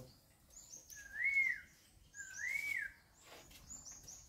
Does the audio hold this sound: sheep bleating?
no